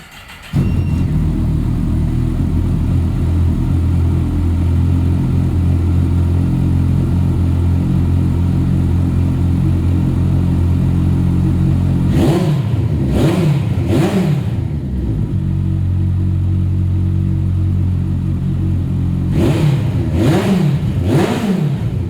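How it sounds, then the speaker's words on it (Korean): A Kawasaki GTR1400 touring motorcycle engine idles with a steady rumble, then revs sharply three times, pauses, and revs three more times, loud and close. "엔진 사운드도 들어보겠습니다."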